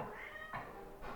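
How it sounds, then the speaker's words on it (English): A pet cat meows twice with short, clear calls, fairly close and alone over a faint room background. "That's my cat."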